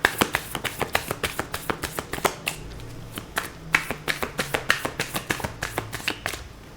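Tarot cards being shuffled and drawn one after another, a brisk run of crisp riffling snaps and taps up close, with no talk.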